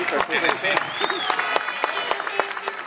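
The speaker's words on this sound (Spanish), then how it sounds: "Un aplauso por ese detalle bonito aquí." Audience applause at an outdoor town fair in Encino, scattered distinct claps close by with voices talking over them, fairly sparse rather than a dense roar.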